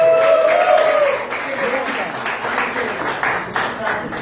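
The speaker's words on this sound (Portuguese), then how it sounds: "Uma salva de palmas pra eles" Audience applause at a conference on Black bodies, justice and faith, a crowd clapping steadily throughout, mixed with voices and chatter in a reverberant hall.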